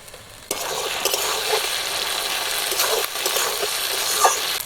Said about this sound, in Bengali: বেটে রাখা আদা রসুনটা দিয়ে দেবো